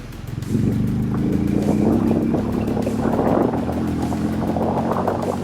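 A Hero Mavrick 440 motorcycle with a 440cc engine accelerates through first and second gear. The engine drone rises in pitch under steady wind rush, heard close and fairly loud without speech.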